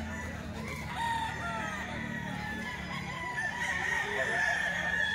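Roosters crow repeatedly at a crowded grotto market for fighting cocks, long rising calls overlapping one another from several birds near and far, with clucking and general crowd murmur underneath.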